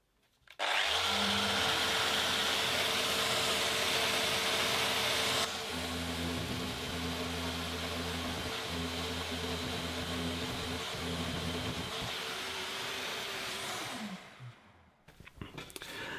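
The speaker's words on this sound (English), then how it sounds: "our quick secondary test of the Festool Rotex sander, but in random orbit mode" A Festool Rotex sander in random orbit mode works across veneered MDF with a steady, loud whirring drone. Partway through, the pitch drops and the sound continues before it spins down near the end.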